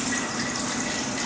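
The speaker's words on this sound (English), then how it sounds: "we are going to thoroughly, and I mean thoroughly rinse all of the zucchini" Zucchini pieces are rinsed under a running kitchen tap, a steady close hiss and splash of flowing water.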